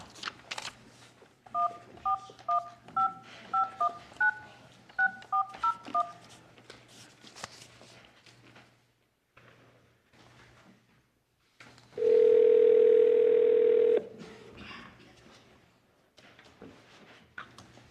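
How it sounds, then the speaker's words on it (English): A desk phone in a county planning office dials out with a quick run of about a dozen touch-tone beeps, then after a pause a steady, loud tone holds for roughly two seconds, with faint background rustling and no talk. "Give Mr. Barry a phone call here for the Beaver Mountain CUP amendment."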